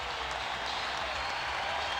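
A home baseball crowd at the Mets vs Expos game on October 3, 2004 cheers and applauds in a steady, loud, sustained roar with no pauses.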